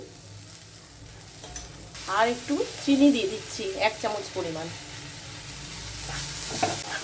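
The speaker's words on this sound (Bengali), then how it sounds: "এবার আলু আর ডালটা ভাজা হয়ে গেছে" Potatoes and moong dal fry in a pan, a steady hiss and crackle running underneath as someone talks, with light stirring scrapes between her phrases.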